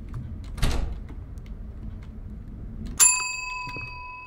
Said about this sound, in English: The bell has rung a second time.